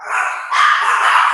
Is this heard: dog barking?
yes